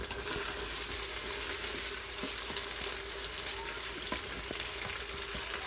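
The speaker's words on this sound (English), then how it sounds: "I'm going to fry this ground beef for about another minute or so" Ground beef seasoned with cumin fries in an Instant Pot, giving a steady, even sizzle with occasional soft clicks and scrapes from stirring, close and continuous with no talking.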